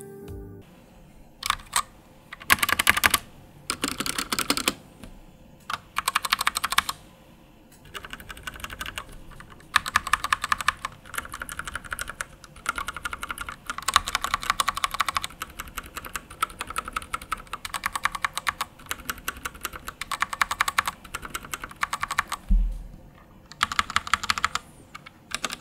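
Typing on a Daxa M71 keyboard: bursts of rapid, crisp key clacks come in short rhythmic runs separated by brief pauses, close and fairly quiet, with no voices.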